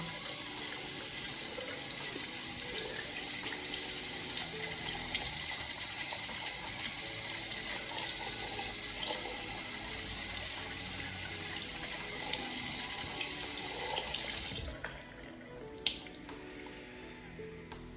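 Running tap water streams steadily under a fude brush being rinsed, a constant hiss of flow with small drips and splashes, then the stream cuts off near the end leaving faint trickling.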